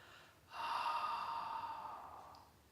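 A slow, steady out-breath during a chi kung class, one long soft exhale of about two seconds rising after a brief pause, close and alone with no talking.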